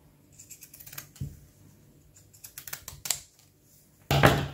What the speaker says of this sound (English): we're just going to pin it in place and then cut around the lining fabric